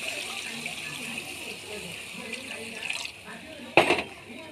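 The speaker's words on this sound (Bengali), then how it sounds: "এবার আমি এই পর্যায়ে জল ঢেলে দেবো।" Water is poured into a pan of rui fish curry with black cumin, a soft running splash that ends in a sharp burst near the end, with faint kitchen noise around it.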